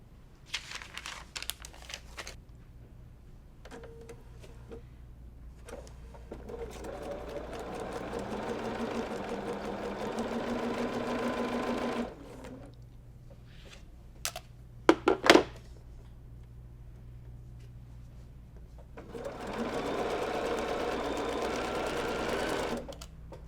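Close sewing machine stitching a Wild Goose Chase quilt block with dark thread on dark blue and medium background fabrics, running in two sustained bursts separated by quiet pauses and a few brief clicks and rustles.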